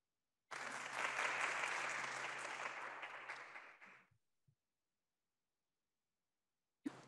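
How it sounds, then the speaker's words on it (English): An audience at a keynote on ageing and cognition gives a burst of applause lasting about three and a half seconds, which fades out and leaves near silence, with a brief soft knock near the end. "We were all clapping here"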